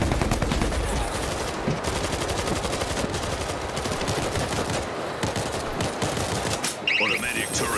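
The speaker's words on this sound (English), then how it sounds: "Automatic turret up and running." Automatic turret in the zombie shooter World War Z: Aftermath, Moscow level, firing continuous rapid bursts of gunfire close up and loud throughout, with dense layered game combat noise and a brief lull near the end.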